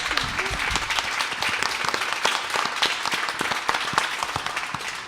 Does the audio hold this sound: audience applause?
yes